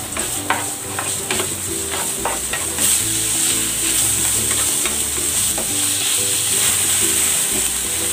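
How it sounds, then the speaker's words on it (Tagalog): Ground pork and onion sizzle loudly in a hot pan, a dense continuous frying hiss with repeated scraping strokes of a spatula stirring the meat, close and uninterrupted. "Igigisa ko na rin tong ground pork."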